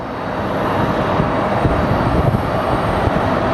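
Alaska Airlines jet airliner at Phoenix Sky Harbor Airport, producing a loud, steady broadband engine roar that stays constant and near throughout.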